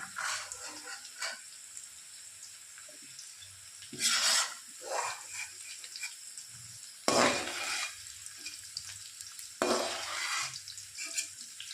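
Onions frying in oil for biryani give a soft, continuous sizzle, broken by several louder bursts of stirring and scraping in the pan, with faint clinks of cookware in between.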